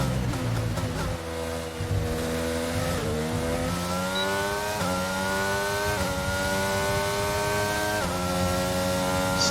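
An F1 car engine screams through upshifts in the F1 22 racing game at the Austria circuit, its loud, high revving tone climbing in repeated sweeps as the car accelerates toward turn 1 in the DRS zone.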